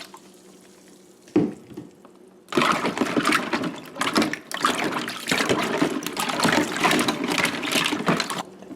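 Water gushes loudly into a large container filling it up for a bleach soak, a steady splashing roar starting after a short quiet pause with a brief knock before it.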